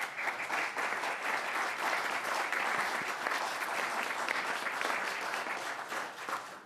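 Steady applause from the audience at a Metro Council meeting after a housing agency appointment is approved, a dense, even clapping lasting several seconds without talk.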